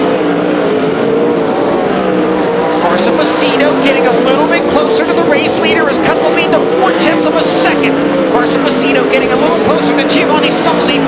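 World of Outlaws sprint cars race at Bakersfield Speedway, engines roaring continuously as the pack circles the track, loud and sustained, with a commentator talking over the noise.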